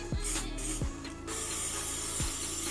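Short pump-spray hisses of liquid foundation from a small bottle, a few quick bursts close up, with light clicking of the nozzle in between.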